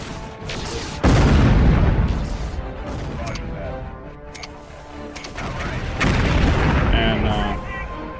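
Turret gunfire in MechCommander 2, heavy booming shots and rumbling impacts repeating in a steady barrage, loud and continuous, with someone talking over the battle noise.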